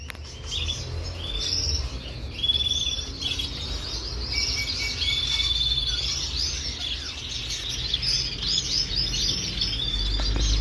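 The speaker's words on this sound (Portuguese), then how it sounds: "Casal de Catarina, macho azul turquesa e fêmea azul cobalto." A pair of lineolated parakeets, a turquoise male and a cobalt female, chirp steadily in short bright calls throughout, close and moderately loud over a low background rumble.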